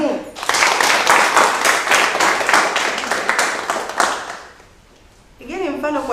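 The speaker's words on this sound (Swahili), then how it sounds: "Naomba umpigie makofi ya nguvu" A classroom of pupils claps loudly and quickly for a classmate, a dense burst of many hands lasting about four seconds before fading, then a voice speaks.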